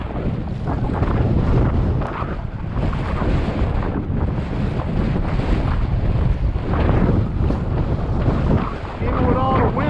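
A strong northeast wind of about 20 knots blows across open water, roaring loudly and continuously against the microphone with waves washing beneath it.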